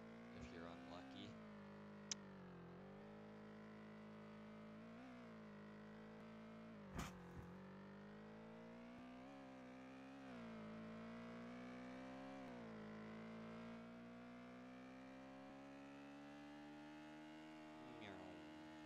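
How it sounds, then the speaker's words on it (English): A front-wheel drive car drives off-road in a video game, its engine a steady droning hum that rises and falls with throttle throughout, with a few brief knocks and bumps along the way. "Never want to do this in real life, off-road with a front-wheel drive car."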